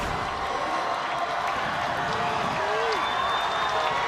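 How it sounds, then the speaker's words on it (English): Home crowd at a high school football game, Berwick Bulldogs at Valley View Cougars in Peckville, gets loud and cheers steadily with a broad roar. A commentator talks over it. "Crowd getting loud here in Valley View, in Peckville."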